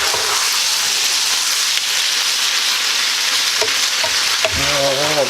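Shrimp scampi with broccoli and egg noodles being stirred in a hot pan, a continuous bright sizzle with scraping of a utensil through the food and a few clinks near the end, close up with no talk.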